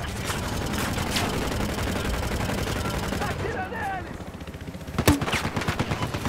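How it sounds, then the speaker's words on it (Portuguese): Rapid automatic gunfire from the Battlefield Hardline multiplayer shooter rattles on steadily in dense bursts, with a sharper crack near the end, while someone talks over the shooting. "Quem tá atirando, velho?"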